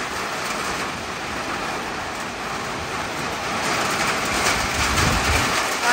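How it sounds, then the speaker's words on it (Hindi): Steady, dense rain noise fills the scene, a continuous broadband hiss that swells a little louder toward the end, with no voices. "देखो कैसे उड़ रही है बारिश"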